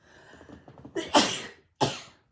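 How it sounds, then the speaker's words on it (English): A single loud sneeze with a sharp intake beforehand, followed after a brief pause by a second shorter burst, close to the listener, with soft murmuring earlier. "Hang on, I'm going to sneeze."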